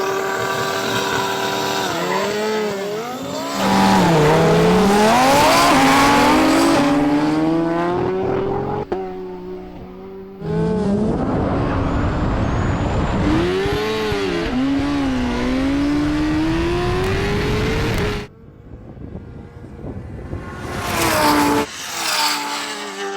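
A Kawasaki H2R motorcycle and a Lamborghini Huracan Turbo drag race with loud, close engine roars. Rising gear-change sweeps climb and drop back twice, then the engines fade to quieter idling and a brief final rev.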